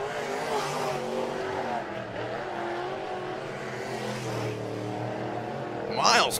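Dirt late model race cars lap Atomic Speedway in a Lucas Oil series event, engines droning steadily and loud throughout, with a sharper burst near the end and an announcer's voice running over the noise.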